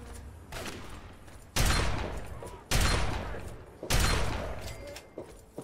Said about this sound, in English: I'm using the shotgun.